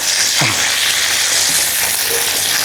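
Avoli (pomfret) fish half-cooked in a pan, frying with a steady, loud sizzle throughout and a brief stir or clink near the start.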